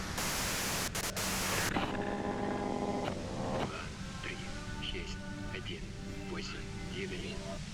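Radio white noise in the video game Disco Elysium hisses as a loud broadband static burst at the start, then cuts down to a quieter, crackly hiss beneath a voice speaking.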